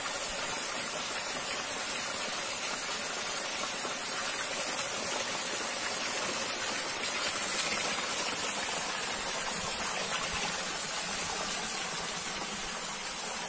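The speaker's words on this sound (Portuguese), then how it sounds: "água descendo da serra" Steady rushing water pouring down a mountainside beside a rural road, a constant full-band roar close by with no pauses or voices.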